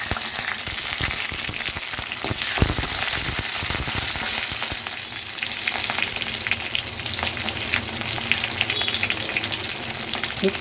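Cumin and dried red chillies frying in hot oil alongside mustard seeds, a steady close sizzle with scattered crackles and pops running continuously throughout, no talking.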